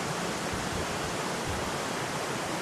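A natural river flows past a campsite by rice fields in West Java, giving a dense, steady broadband rush of water that stays loud and unbroken throughout.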